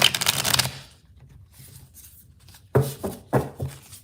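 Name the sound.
shuffling a deck of cards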